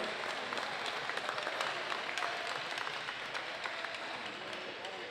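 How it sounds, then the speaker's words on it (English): Audience applause in an arena after a men's A national bronze medal game between the Niagara Olympics and Vancouver Falcons, a steady wash of clapping sustained for about five seconds with a faint voice underneath. "Let's have a round of applause for a great men's A national bronze medal game"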